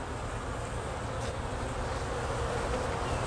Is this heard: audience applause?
no